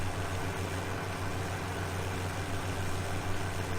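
An in-game tractor engine idles in the Farming Simulator 17 video game, a low, even, continuous hum with a steady throb and no change in pitch, with no talking.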